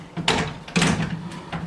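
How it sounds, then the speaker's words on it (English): A student desk drawer on wheels slides into place with two rolling, scraping bursts and a light knock at the end, close and fairly loud. "your drawer's going to go sliding right in here"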